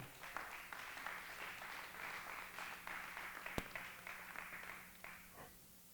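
A church congregation claps their hands together, a moderate, somewhat distant round of many overlapping claps that holds steady for several seconds before fading away.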